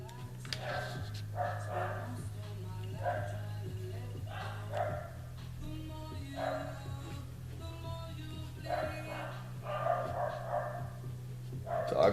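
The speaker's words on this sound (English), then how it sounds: "Dogs are going nuts down there." Several dogs bark somewhere below, a bit distant, in repeated bursts of yapping with short gaps throughout, and a faint voice occasionally underneath.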